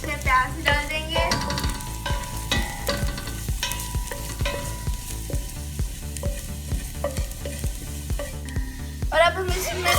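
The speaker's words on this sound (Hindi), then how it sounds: "1 खाने का चम्मच बटर डाल के अब हम इसमें 2 क्लोव्स जो गार्लिक जिसे हमने चॉप कर लिया था वो डाल लेंगे।" Chopped garlic sizzling in butter in a pan for white sauce pasta, a steady close crackle and fry with a faint stirring scrape, running throughout with no one talking.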